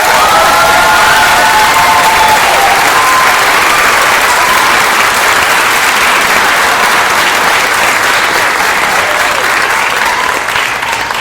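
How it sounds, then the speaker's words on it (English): A large audience at a summer music camp string ensemble concert claps loudly and continuously, with some cheering and a few shouts mixed into the dense applause. "Maya, Ryuka, Melanie, could you please stand up and just take an enormous amount of applause"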